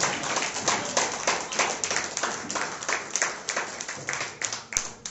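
A church congregation claps steadily and rhythmically, many hands together in a continuous, moderately loud round of applause with no voices.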